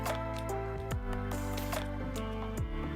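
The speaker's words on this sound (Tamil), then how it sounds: "இப்போ கடைசியாக ஊற வச்ச அரிசியை போடுங்க." Soaked rice tipped into chicken biryani in a pressure cooker, giving a close, wet squishing and dripping sound that runs steadily for a few seconds with no talking.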